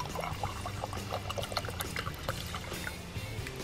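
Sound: water poured for forest tea

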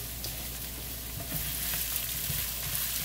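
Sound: meatball and veggie stir-fry sizzling in a pan

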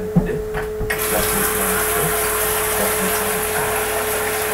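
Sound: water being added to a pot for pounded yam

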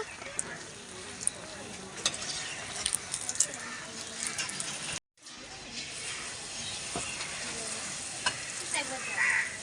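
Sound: frying poa pitha in hot oil

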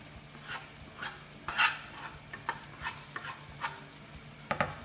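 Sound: stirring vegetable ragout with garlic in a pan

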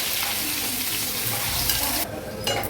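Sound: onion and curry leaves sautéing in a pan

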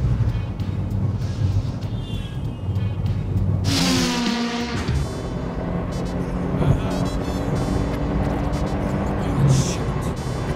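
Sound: 20-year-old taxi car engine roaring while speeding

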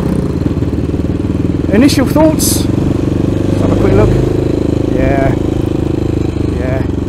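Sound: CCM Maverick motorbike engine

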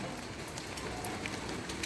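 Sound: rain falling

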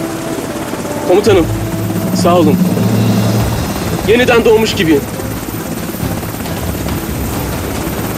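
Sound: helicopter in flight

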